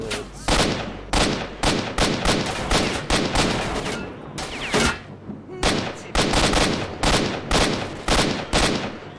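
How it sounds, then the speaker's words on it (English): Bandits firing guns in S.T.A.L.K.E.R. Shadow of Chernobyl: loud bursts of automatic gunfire come in repeated volleys with brief gaps, close and sharp, without talk. "Bandits. Bandit shooting."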